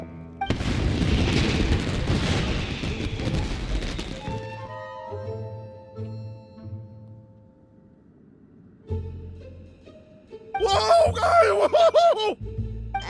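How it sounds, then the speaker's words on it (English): Fireworks in the Genshin Impact game go off in a loud, dense burst of booming crackle for several seconds. Quieter music and effects follow, then a second bright, crackling sparkle of fireworks rises near the end. "Was that an explosion? It sounded like fireworks."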